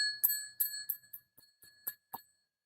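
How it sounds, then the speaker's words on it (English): A tabletop service bell with a faulty mechanism is struck about seven times in irregular succession, each a bright metallic ding with a sustained ring, some strikes weak or dull where the bell barely sounds, close and alone. "a service bell that sometimes works"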